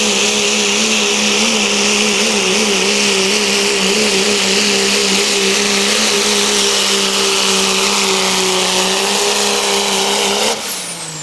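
A Dodge pickup strains down the track at a truck and tractor pull, its engine roaring loud and steady at high revs for about ten seconds before the pitch suddenly falls away as it lets off.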